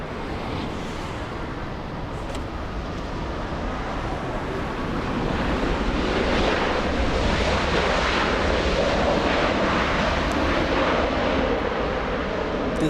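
An airliner on final approach into LAX after a flight from London Heathrow roars overhead, the broadband jet rumble swelling louder toward the middle and holding steady with wind noise around it.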